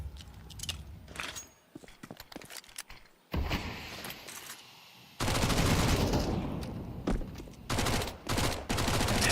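Pistol gunfire in a Counter-Strike 2 match: bursts of sharp shots and rapid fusillades come through in uneven clusters amid in-game noise, with some quieter gaps between.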